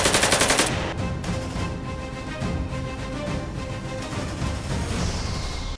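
Staged gunfire in a stage play: a loud, close, rapid burst of shots fills the first second, then gives way to a dense, sustained rumble of background sound.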